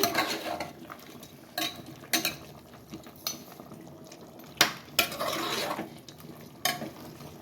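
Spiced chicken is stirred in a pan in a Telangana-style kitchen, giving repeated scraping and clinking strokes of a utensil against the pan over a faint sizzle, close and irregular.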